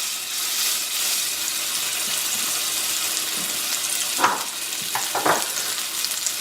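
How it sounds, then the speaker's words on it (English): Salted and peppered beef fillet searing in a hot pan, a constant close sizzle with a few sharp clinks and scrapes near the end, no voices. "Now the point here is just to sear it off on all sides, and that gives you a nice flavor"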